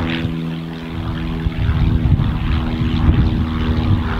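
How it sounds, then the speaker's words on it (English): A propeller plane drones overhead outdoors, a loud steady engine hum with throbbing low tones that swells slightly, with no talk. "Now I have planes flying overhead watching me."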